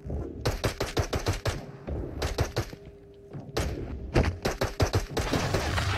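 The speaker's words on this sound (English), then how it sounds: "Shooting." Shots ring out in the video game Into the Radius, patch 2.5, played on Normal difficulty. Sharp, loud reports come close together in several rapid bursts, separated by brief pauses.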